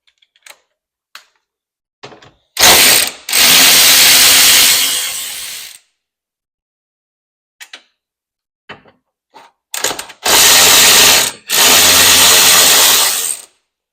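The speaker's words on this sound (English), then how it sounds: "And then now I'll take out the T40s." T40 Torx bolts coming out of a 2021-or-later Polaris RZR 900/1000 Trail: two loud, close bursts of whirring tool noise, each a few seconds long, with scattered sharp clicks and ratcheting taps between them.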